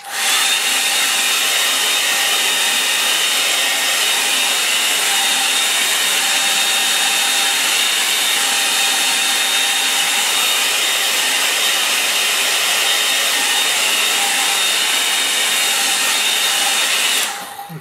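A hair dryer blows continuously over a freshly painted impressionist watercolour, a loud steady close whir with a broad airy hiss that runs unbroken and cuts off at the very end.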